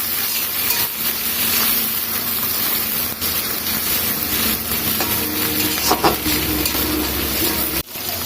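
A few shrimp frying in a pan with browned onions for a Malabar spinach and potato dish, a steady loud sizzle with occasional utensil scrapes and one sharp knock near the end, close up and without speech.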